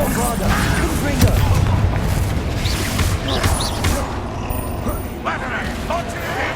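Bombarda and Confringo spell blasts in Hogwarts Legacy on PS5 boom and crackle amid mechanical creaks and clattering combat noise, a loud dense mix with several sharp bursts and rumbling low impacts throughout.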